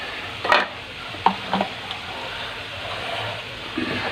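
A chicken, broccoli and button mushroom stir-fry is stirred in a pan. A few sharp scrapes and knocks from the utensil stand out over a low, continuous frying hiss.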